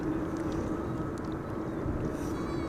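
A steady, broad engine roar from a seven-year-old Embraer Phenom 300 jet landing on runway 27 at windy Amsterdam Schiphol, sustained and fairly distant with wind noise.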